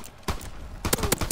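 Pistol shots in Call of Duty WW2, a few sharp cracks spaced unevenly, the first one alone and then a quicker cluster of three or four near the end, loud and close with no talk.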